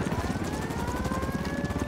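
A helicopter's rotor thumps rapidly and continuously with a steady whine above it, close and loud, as in a game soundtrack.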